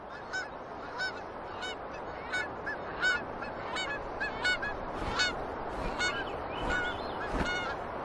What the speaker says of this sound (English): As many as 140 million seabirds flock to Alaska's coast for the summer.